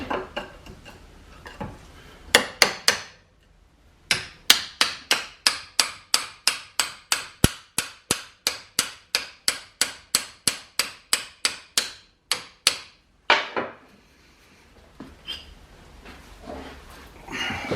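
Light metal tool taps on a hydraulic cylinder during a rebuild, a long run of evenly spaced sharp clinks after a few scattered hits, close and crisp, with no talking.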